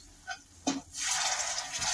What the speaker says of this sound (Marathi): आता याच्यात मी गरम पाणी टाकते